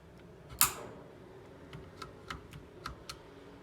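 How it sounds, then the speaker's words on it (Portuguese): Sharp clicks from an Outemu switch being pulled out of a Redragon mechanical keyboard: one loud close snap followed by several fainter, evenly spaced ticks, with no talking. "Ouviu o clique, pode puxar."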